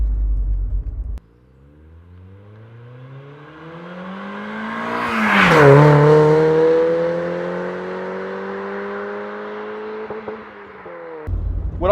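A car with a Cobalt exhaust system idles, then revs up to a loud, raspy exhaust roar that peaks and falls back to a steady drone before dropping to idle again.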